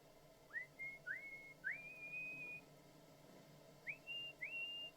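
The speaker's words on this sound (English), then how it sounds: "They heard me whistling." A person whistles a short rising-then-held tune, several quick swooping notes followed by a longer sustained tone, then a pause and two more glides, clear and fairly close over a quiet background.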